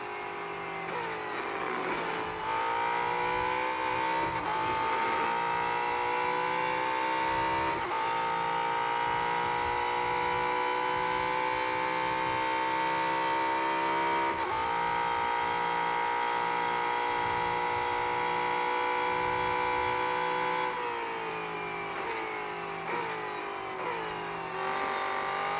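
Race car engine in a road-collection racing video game, heard from the cockpit as a loud, steady high-pitched drone with several brief dips and rises as the car shifts and revs through corners, with no talking.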